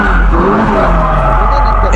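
A drifting car loses control, its tires skidding and squealing loudly over the engine's drone, continuous and close for the whole moment.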